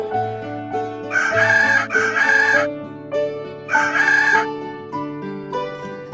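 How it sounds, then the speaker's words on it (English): A rooster crows loudly twice in long, ragged calls, with clucking between them, all over a bouncy looping tune. "H for hen."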